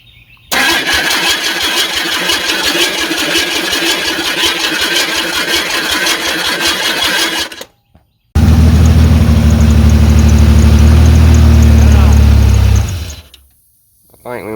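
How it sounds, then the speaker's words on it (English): An old car engine cranks for several seconds with a fast, steady starter whir, pauses briefly, then catches and runs loud with a deep, rough idle before cutting out. "Hop in there and fire it up."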